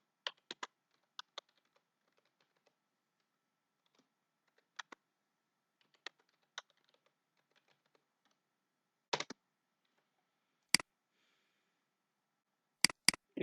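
Scattered bursts of keystrokes on a computer keyboard as a complex password is entered, with short clusters of clicks separated by pauses and a few sharper, louder taps near the end, close and otherwise quiet with no talk.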